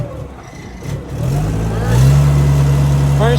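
A car pulls away forward in first gear after a cold start, its loud, close engine note rising steadily as it gains revs, with a voice speaking briefly over it.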